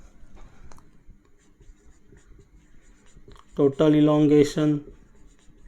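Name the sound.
writing on a board while teaching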